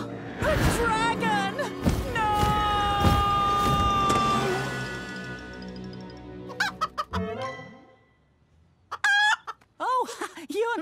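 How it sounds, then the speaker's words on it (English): Animated chicken clucking and squawking in a Thomas & Friends cartoon, loud rapid calls mixed with character voices and music, then a quieter pause before more sharp squawks. "A talking chicken"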